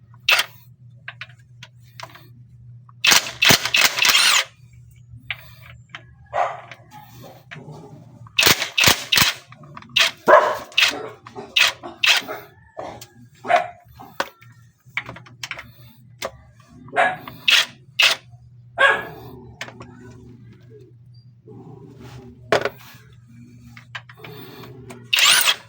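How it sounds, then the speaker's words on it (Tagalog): An impact wrench removes 14 mm bolts on a Hyundai H100 (Porter II) during a secondary clutch cylinder replacement, firing in short loud rattling bursts separated by quieter gaps and faint handling noises. "So gamitan ako og impact wrench para dali ra."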